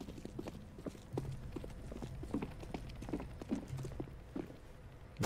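A video game character runs and stomps along, heavy footfalls landing in a steady, fairly quick rhythm, close and moderately loud, with no talking.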